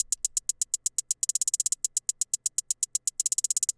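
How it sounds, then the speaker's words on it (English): Filled-in hi-hat pattern for a hyperpop beat, a steady stream of bright closed hats on every step with short faster rolls, dense and insistent, heard alone without any voice. "Then we have the second hi-hat pattern, which is arguably even easier than the first one."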